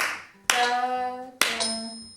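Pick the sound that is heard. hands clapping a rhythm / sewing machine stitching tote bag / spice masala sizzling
hands clapping a rhythm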